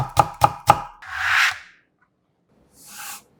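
A knife cuts thin julienne strips of carrot on a cutting board: three quick, sharp taps in a row, then a longer scraping sweep of the blade across the board, and after a pause a second shorter scrape.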